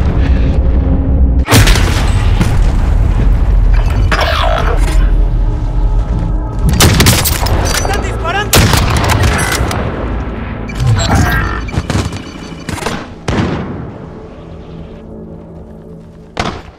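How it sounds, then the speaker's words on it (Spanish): Call of Duty Warzone combat rages loud and close: heavy booming explosions and thudding impacts mix with bursts of gunfire and continuous rumble. No voices. "¡Me están disparando!"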